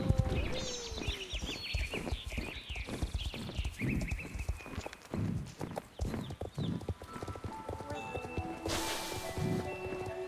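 Footsteps of a horse rustling through leaves in the Silverglade area of an online role-playing game, with steady clip-clop hooves, occasional whinnies and birdsong, plus chiming melodic game tones; no talking.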